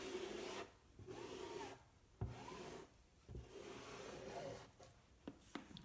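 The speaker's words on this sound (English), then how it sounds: "This is why I love this giant handled squeegee." A giant-handled squeegee drags chalk paste across a transfer in repeated rasping strokes, each scrape followed by a brief pause, with a couple of light taps toward the end, faint and close.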